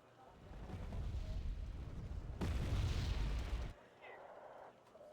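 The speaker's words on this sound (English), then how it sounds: "Those are the mortars again." Mortar fire in a video game: a rumbling barrage of muffled booms that swells to a loud, dense blast in the middle of the stretch, then fades to a quieter background.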